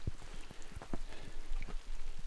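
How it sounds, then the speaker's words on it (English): Heavy rain drums steadily on a Subaru Forester XT S-Edition driving off-road on firebreak and pine plantation tracks, a dense, continuous patter with scattered individual drop hits close by. "it's still raining quite heavy"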